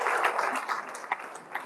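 Applause from a university ICT event audience, a steady wash of many hands clapping at moderate level for about two seconds, fading slightly toward the end.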